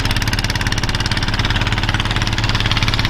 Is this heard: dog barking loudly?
no